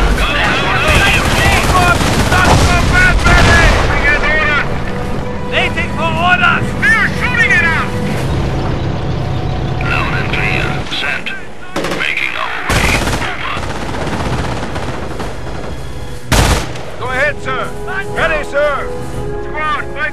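Machine-gun fire and gunshots in the video game Company of Heroes: Opposing Fronts, dense loud bursts mixed with explosions, engine noise and in-game voices talking over the battle.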